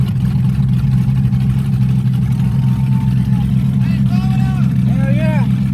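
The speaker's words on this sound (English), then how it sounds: "we about to go up for the rowdy burnout" An LS-swapped Ford Crown Victoria with a 4L60E transmission doing a burnout, its engine roaring loud and steady throughout, with shouting voices rising near the end.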